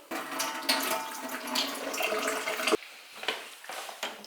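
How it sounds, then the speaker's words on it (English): Water runs from a tap into a steam mop's removable tank, a splashing, gurgling stream for nearly three seconds, then a few softer trickles and knocks as the filling stops. "So your water tank just pops out, unscrew the lid and fill it up."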